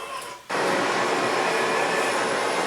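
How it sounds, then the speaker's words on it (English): Steady, dense traffic rumble sampled as ambience for a lofi beat, kicking in abruptly after a half-second of quieter noise and then holding loud and constant with no talk. "Here's some traffic."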